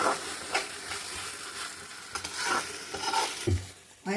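Tomatoes and masala gravy for a dhaba-style chicken curry fry in a pan, giving a steady close sizzle broken by several sharp stirring scrapes and clinks, with no talking.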